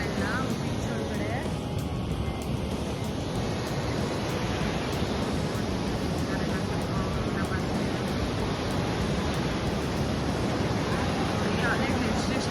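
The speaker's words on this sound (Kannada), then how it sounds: "ಅಲೆಗಳು ಎಷ್ಟೆಷ್ಟು ಜೋರಾಗಿ ಬರ್ತಾ ಇದೆ." Strong ocean surf at Delta Beach in Udupi makes a constant loud roar of breaking waves, a dense wash of noise with no clear pauses.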